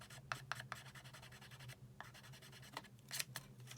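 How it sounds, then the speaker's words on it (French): A pencil line on a paper craft template for a Tic Tac box is rubbed out with an eraser in quick, faint, repeated scrubbing strokes, close up and without talk. "J'ai oublié de gommer mon trait, donc je vais le faire maintenant"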